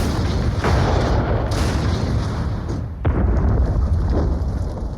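Artillery fires in a short World War I bombardment preceding a German assault on the Western Front in March 1918: several heavy booms ring out over a dense, continuous rumble of distant gunfire.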